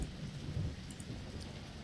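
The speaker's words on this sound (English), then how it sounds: "It's probably just the thunder" Thunder rumbles in the Wildlife Park 3 video game over steady falling rain, with a low rolling boom near the start and faint, continuous storm noise behind it.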